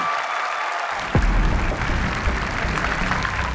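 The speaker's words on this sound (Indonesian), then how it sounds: "Lebih meriah lagi tepuk tangannya." An audience at a live stunt show breaks into applause that swells after a quieter start, continuing as a steady, moderately loud wash of clapping.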